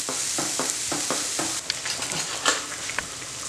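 Potatoes and onions fry with whisked yogurt in a pan, a steady sizzle broken by a rhythmic series of stirring scrapes and knocks, up close with no voices.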